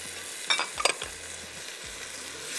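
Chopped tomatoes sizzling in a pot for egg and vegetable biryani, with a steady frying hiss and a few scraping stirs with a utensil early on, no talking.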